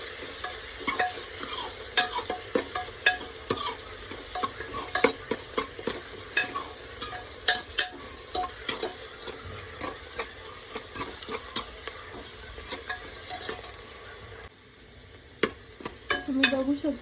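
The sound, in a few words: onion and green chilli sautéing in a pan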